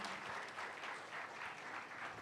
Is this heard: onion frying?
no